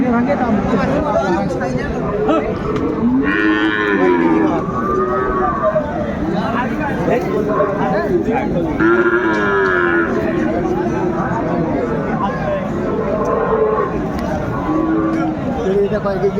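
Cattle, including Friesian and crossbred bulls, moo repeatedly at a busy livestock market in Dinajpur, their long lowing calls rising over a steady crowd hubbub and overlapping voices close by.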